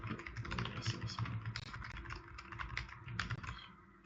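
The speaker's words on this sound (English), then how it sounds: "I can just type this in" Rapid keyboard typing on a computer during a medical simulator session, steady clusters of close keystrokes running throughout with a faint background murmur.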